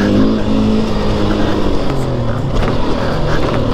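A new motocross motorcycle rides a dirt track, its engine droning loudly and steadily with rising revs as it accelerates, close and continuous throughout.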